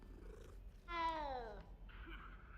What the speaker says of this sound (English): So it's gonna let you come up and pet the cat.